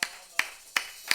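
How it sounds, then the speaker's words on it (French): Four sharp, evenly spaced claps ring out in steady rhythm from a church congregation clapping for Jesus, with no talk between them. "Applaudissons pour Jésus. Il mérite les acclamations."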